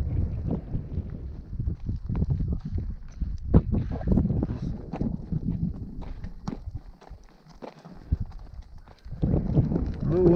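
A horse plods along a mountain trail near a camp, its hooves clip-clopping in a steady uneven rhythm close by, with wind buffeting the microphone and a person talking at times.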